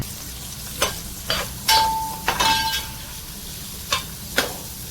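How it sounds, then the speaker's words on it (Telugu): Onion pieces frying in hot oil in a pan for fish curry, a steady crackling sizzle broken by several sharp spatula scrapes and clinks at uneven intervals. "ఆయిల్ హీట్ ఎక్కిన తర్వాత ఆనియన్ ముక్కలు వేసుకోవాలి"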